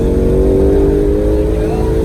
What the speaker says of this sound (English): Now roll onto that throttle, let it push you all the way out, all the way to the edge